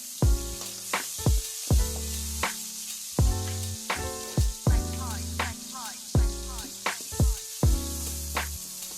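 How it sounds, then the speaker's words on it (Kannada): Onions frying in oil for a North Karnataka dish give off a steady, bright sizzle that runs underneath loud background music with a prominent beat throughout. "ಈ ಉಳ್ಳಾಗಡ್ಡಿ ಕೆಂಪಗಾಗುವವರೆಗೂ ಫ್ರೈ ಮಾಡ್ಕೋಬೇಕ್ರಿ"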